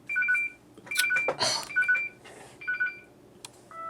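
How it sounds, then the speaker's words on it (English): A mobile phone sounds a run of short electronic notification beeps in quick, uneven bursts, with a brief rustling noise in the middle, close by and fairly clear against a quiet room. "sorry, my phone"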